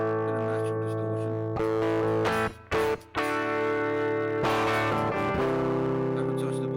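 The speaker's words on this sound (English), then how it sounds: "This one is the Lester or Les Paul style. You'll notice it a lot more muddy, creamy is the word I should use." Line 6 Variax 500 modeling guitar in its Les Paul style setting, strummed chords with a muddy, creamy natural distortion ringing and sustaining, a brief break midway before the chords ring out again.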